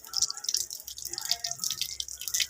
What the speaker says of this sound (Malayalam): ഇനി നമുക്കിതൊന്ന് കഴുകാം.